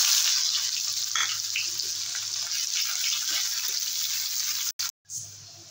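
Chopped onion, two bay leaves and whole cumin seeds hiss in hot oil previously used to fry fish roe koftas: a steady, close sizzle that runs on, then cuts out in two brief gaps near the end.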